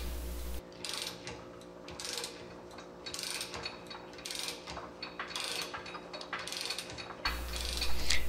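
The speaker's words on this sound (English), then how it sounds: "Tighten the press screw to install the ball joint." A ball joint press screw on a Ford F450/F550 knuckle is tightened with a wrench, giving repeated ratcheting clicks in short bursts with brief pauses between strokes, close and moderately loud, with no talk.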